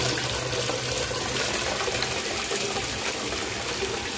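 A Yamano 3000-litre-per-hour koi pond water pump forces water out of a hose in a strong, steady rushing gush, loud and continuous throughout with no pauses.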